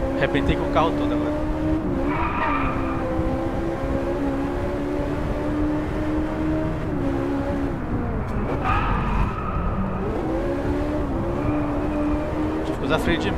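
A race car in the Driveclub racing game roars at high revs while its tires squeal through a handbrake skid, the engine note dipping and climbing again, with someone talking over it.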